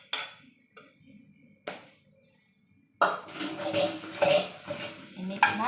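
Oil poured over chopped mango for homemade pickles, then stirred: a few soft clinks and scrapes first, then several seconds of steady wet stirring and utensil scraping against a bowl, close and fairly loud.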